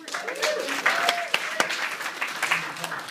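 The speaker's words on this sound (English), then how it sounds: "30 days to your car. Give her a hand, please." A crowd at an evening training event applauds steadily with many hands, a few sharper claps standing out, while voices murmur and talk underneath.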